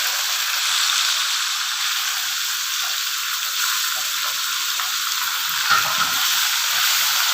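Cumin and ajwain seeds frying in hot oil as onions go in, giving a steady, close, bright sizzling hiss with a faint stir near the end.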